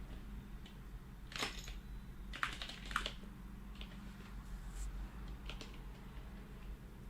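Keys on a computer keyboard are tapped in short, quiet clusters of clicks against a steady low room hum.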